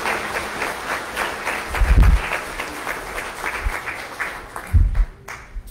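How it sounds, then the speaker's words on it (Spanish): A church congregation at a Sunday Mass applauds to welcome a newcomer, sustained clapping with a low rumble, two heavier bursts near the middle and end, and a quieter tail. "Le damos un fuerte aplauso de bienvenida a Galilea."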